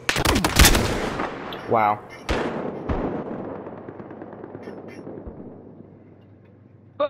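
Sniper gunfire: several sharp rifle shots crack loudly at the start, then single reports with long echoing decays follow at intervals, and a person speaks briefly in between.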